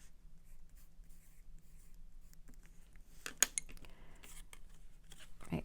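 A pencil marks paper for a Halloween ghost craft tag: soft, faint scratchy strokes in short bursts, close up, with a few sharper taps and rustles near the end.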